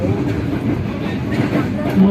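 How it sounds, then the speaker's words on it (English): A Pakistani passenger train rushing past close by on the adjacent track during a Rawalpindi to Karachi journey, heard from inside a moving carriage as a steady, loud roar of rolling wheels and rumble with no pauses. "This is how close a train passes by."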